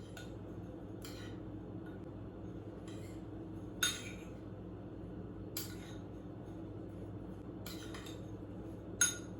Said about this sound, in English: I went ahead and added the oatmeal and the protein together, and we're going to mix that up really good.